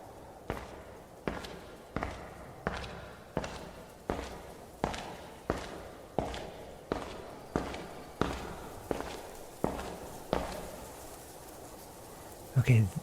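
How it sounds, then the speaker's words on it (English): Footsteps climb stairs at a steady, even pace inside a tower, about fifteen distinct thuds in a row over a quiet background. "I'm going to go up the stairs."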